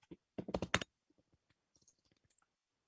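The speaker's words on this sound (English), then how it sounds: "So now I type in on the chat room. Can you see me? I type the keyword in." Fingers type on a computer keyboard, with a quick burst of clattering keystrokes followed by scattered, softer single key taps, close by and without speech.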